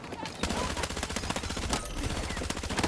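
Rapid automatic gunfire in Battlefield 6, loud, close bursts of dense repeated shots firing almost continuously after a short quiet start, with overlapping impacts and echoes.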